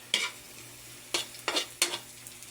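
Garlic browns in hot oil in a pan, giving a soft constant sizzle broken by four sharp utensil scrapes as it is stirred.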